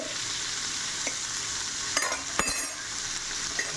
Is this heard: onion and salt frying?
yes